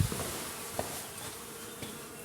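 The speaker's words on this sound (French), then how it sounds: "Vous voyez ce bel essaim d'abeilles là?" A swarm of honeybees clustered at an abbey window and chimney hums in a constant, faint, diffuse buzz, with a few individual bees flitting closer past the listener.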